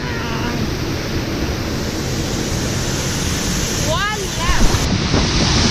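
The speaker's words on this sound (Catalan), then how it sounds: "Mireu quina bocanada d'aigua surt de la presa" Water gushes out of the Arenoso dam in a loud, steady roar of rushing spray that fills the whole moment, and near the end a person gives a brief excited exclamation over it.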